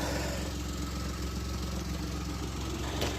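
A Peugeot 107 idles steadily with an exhaust leak, giving a continuous low, pulsing putter with a rough blowing edge, close and constant throughout with no talk.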